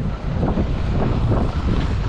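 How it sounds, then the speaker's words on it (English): Heavy wind buffets the microphone while skiing down a slope at Vail in mid-March, a constant loud rushing roar with no other sounds. "Hopefully the wind's better."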